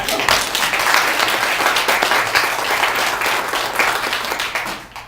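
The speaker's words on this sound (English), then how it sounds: "you guys show her by applause?" Audience applause from a crowd at a Party Light event, steady and dense for about five seconds, then fading out at the end.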